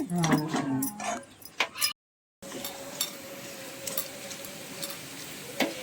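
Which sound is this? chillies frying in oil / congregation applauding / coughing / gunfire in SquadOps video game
chillies frying in oil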